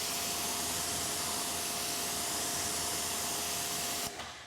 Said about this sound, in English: let me pull over my pressure washer here, and you guys can see real time of what it actually looks like